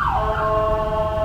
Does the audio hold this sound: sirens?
yes